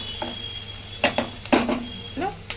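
Potato pieces fry with salt in a pan for pav bhaji, under a soft sizzle broken by sharp scrapes and clatters of a spoon stirring against the metal.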